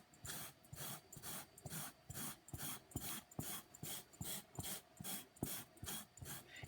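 A fabric shaver scraped back and forth over an old, heavily stained wool mat, making a steady rhythmic rasping of about two strokes per second, close and fairly quiet.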